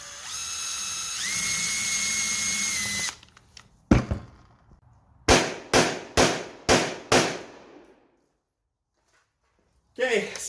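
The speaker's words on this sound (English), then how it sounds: "It's going to run how it's going to run after I drill this out." A power drill whines steadily as it drills out the gas port hole on a Steyr AUG rifle, then stops, followed by a clunk and a rapid string of five sharp, loud gunshots.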